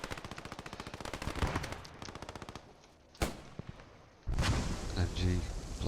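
Rapid machine gun bursts in the Post Scriptum war game, a long stuttering volley followed by a single sharp shot and another loud burst of fire, with a voice talking over the gunfire.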